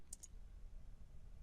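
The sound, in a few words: mouse click on Save button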